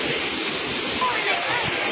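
The Anayadikuthu waterfall at Thommankuthu roars as a dense, continuous rush of falling water, loud and steady throughout with no voices heard.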